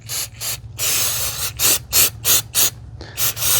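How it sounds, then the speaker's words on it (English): CRC mass airflow sensor cleaner sprays onto the sensor of a second-generation V8 Toyota Tundra in short, close hissing bursts, about eight in a row, some longer and some quick. "we're just going to spray this thing off"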